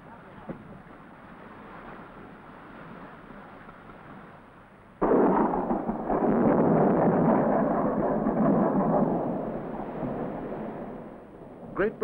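Steady wind and rushing noise give way to a sudden deep roar of thunder during a storm at sea that rumbles on for several seconds before fading.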